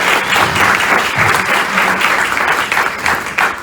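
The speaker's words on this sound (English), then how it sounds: "Can we give Mara a round of applause?" A club meeting audience gives a loud, close round of applause for Mara, dense continuous clapping that stays strong throughout and begins to fade only at the end.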